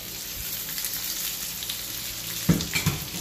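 Chicken pieces sizzle in a pan of hot oil for a ginger chicken gulai, a steady crackling fry that bursts louder as the meat is stirred and scraped near the end.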